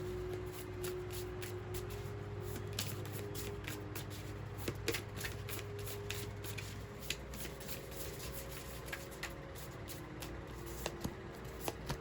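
Tarot cards riffled and shuffled close up, a fast run of soft papery flicks and slaps with a faint steady background hum and a few crisper taps as cards are pulled.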